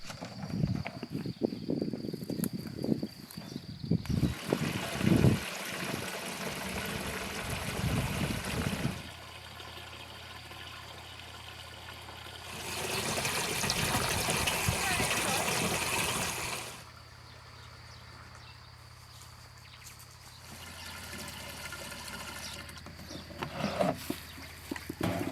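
Water running from an outdoor tap into large bottles at an off-grid homestead, a soft rushing flow in two extended bursts separated by quieter gaps, with scattered handling noises and rustling between them.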